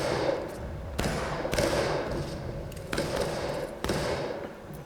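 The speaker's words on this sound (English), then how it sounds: "first thing I'm going to do is load my rifle" Rifle loading in the War of Rights game, heard as a handful of hard, close thuds and clacks at uneven intervals over a steady low background, with no talk.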